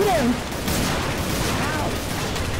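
Dense, continuous gunfire from a zombie shooter video game roars loudly for the whole stretch, with a brief whistling tone near the start and raised voices mixed in.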